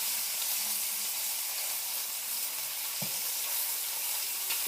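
Food frying and being stirred in a pan, a loud, constant close-up sizzle with one brief knock of the utensil partway through.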